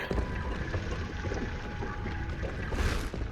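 Rushing, splashing water in a Hogwarts Legacy game scene, a steady loud wash with gurgling texture throughout and a brief surge near the end.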